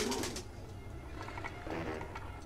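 Pigeon cooing from a Jazzpunk video game, a few low soft coos spread over a couple of seconds amid faint background ambience.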